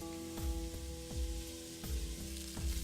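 Meat browning in batches in a hot oiled pan: a dense, steady sizzle close up, with soft periodic stirring or shifting sounds every fraction of a second.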